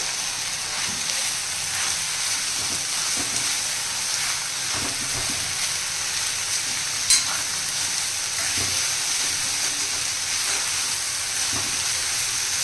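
Amaranth leaves fry in a pan with a little salt while being stirred, producing a steady close sizzle and hiss with soft scraping from stirring throughout.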